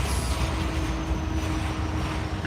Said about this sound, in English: NS355 headed out the south end.